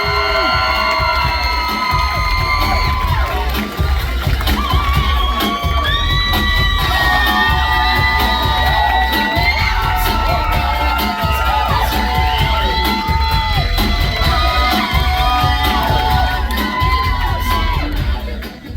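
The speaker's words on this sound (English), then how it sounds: "In third place, let's get nice and loud for Vanessa." A large crowd cheers loudly for the third-place finisher at the 2026 Sturgis Buffalo Chip poster model competition, with sustained whoops, yells and shouting holding steady throughout.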